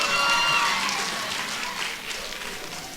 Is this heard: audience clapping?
yes